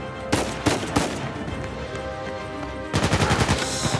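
Uncharted 4 gunfire on PS4, several loud separate shots early, a steady rumble of combat, then a quick burst of rapid automatic fire near the end.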